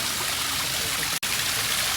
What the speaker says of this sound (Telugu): వాటర్ ఫాల్ పెట్టి పెంగ్విన్స్ ఆడుకోవడానికి మంచిగా వాటర్ చూడండి ఎంత ప్యూర్గా ఉంది వాటర్